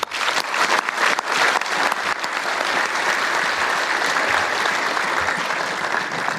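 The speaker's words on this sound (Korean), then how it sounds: "여러분 모두에게 격려의 박수를 보냅니다" Sustained applause from a large crowd at a military academy graduation ceremony, dense and steady throughout, loud and even with no talk over it.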